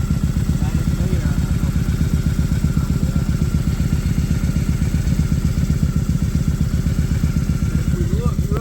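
A Kawasaki Voyager VN1700 motorcycle with True Dual exhaust idles steadily up close, its engine pulsing in a fast, even rhythm throughout with a faint mechanical clatter on top.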